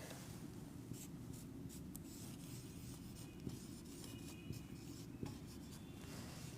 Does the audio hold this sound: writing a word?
yes